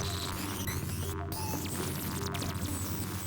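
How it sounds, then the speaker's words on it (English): Harsh broadband static and throbbing hum fill the clip continuously, with brief distorted spikes and warbling tones cutting through. "Broadband transmissions. Random noises mixed with distortion spikes."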